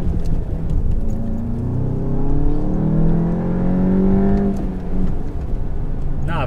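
A VW Golf GTI Mk7.5 (230PS) pulls hard in first gear, engine note climbing steadily in pitch as it accelerates, loud and close from inside the car, with the tone dropping briefly near the end as the gear runs out.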